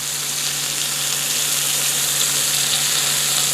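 Pork meat for pork and beans sears in a hot pan, a steady, loud, even sizzle with no pauses or voices.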